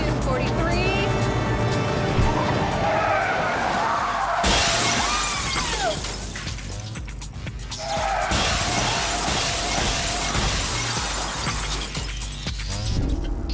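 A truck brakes hard and smashes into a glass pane with a loud shattering crash, followed by a second burst of breaking glass, under a narrator's voice.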